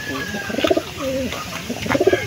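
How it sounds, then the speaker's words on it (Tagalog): Pigeons cooing on a farm, two close bursts of soft, rolling coos separated by a pause, with a person speaking faintly between them. "Yung kalapati."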